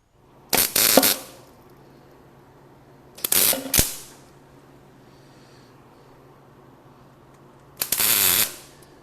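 On a rusted 1970 Ford F100, a wrench ratchets a broken bolt out through a welded-on nut after heat and penetrating oil, three separate short bursts of close, rapid clicking separated by quiet pauses.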